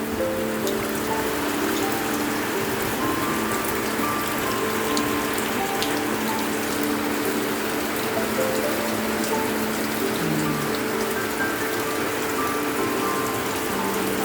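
Rain falls steadily on a small integrated farm with chicken coops, making a dense, even patter throughout, with faint mechanical ticking mixed in and no talking.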